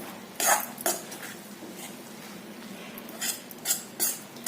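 A lid lifted off an iron kadai of cooked onion curry, a clatter of metal followed by scattered scraping and clinking of utensils against the pan, close and fairly quiet.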